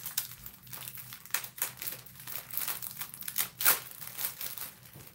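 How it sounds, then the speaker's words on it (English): A cellophane bag is handled during an unboxing of a fiber club package, producing a continuous close crinkling and crackling with repeated bursts of louder rustles, no talking. "So this is like a cellophane bag."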